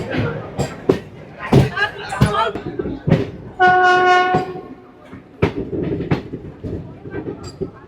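A passenger train runs from Kolkata toward Bolpur Santiniketan with a steady rolling rumble, and a loud sustained horn blast sounds near the middle while people talk throughout.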